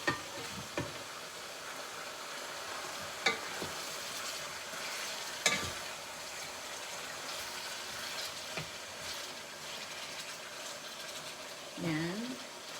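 Food fries in a pan with a steady, low sizzle, broken by occasional scrapes and clinks of stirring, and a brief voice near the end.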